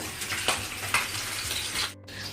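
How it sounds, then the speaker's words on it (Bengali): Fish frying in a pan, a steady close sizzle with light crackling and a few soft scrapes, moderately quiet, cutting off briefly near the end. "আর এদিকে মাছ ভাজছি"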